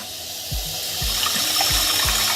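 Tap water runs steadily and loudly as a container is refilled, a continuous close gush with faint low knocks underneath.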